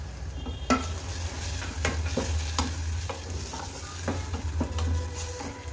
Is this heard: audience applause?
no